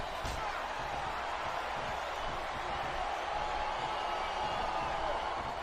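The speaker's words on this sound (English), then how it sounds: "I can't remember the last time I saw a crowd this pumped up for SmackDown action." Arena crowd in the WWE SmackDown vs Raw 2007 video game roars as a steady, dense wash of cheering that holds throughout at moderate level.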